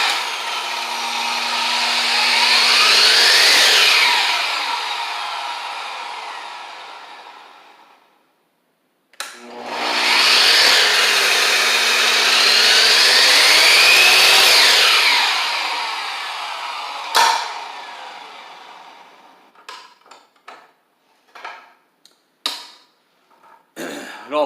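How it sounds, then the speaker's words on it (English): A WEN dual-speed sliding compound miter saw cutting, two loud whining passes that rise, hold and wind down, separated by a brief silence, followed by scattered clicks and knocks as the blade stops. "if you let go of it partway through a cut, it'll slow itself down and then it'll re-trigger slowly."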